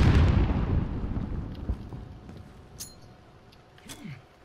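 A grenade blast in Call of Duty Modern Warfare gunfight gameplay opens with a loud, deep boom that rumbles and fades over several seconds, with faint game sounds after it.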